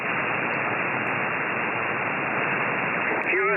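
Steady hiss of static from a ham radio receiver on HF, a loud, unbroken wash of noise that fills the clip, with a brief change in tone right at the end.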